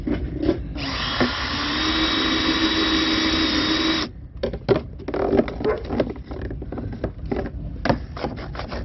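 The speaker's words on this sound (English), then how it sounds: "Sawing a little bit." A power tool whines steadily for a few seconds, then cuts off into a run of scraping, rasping hand-sawing strokes on wood, close by, during a repair of a toy dump truck.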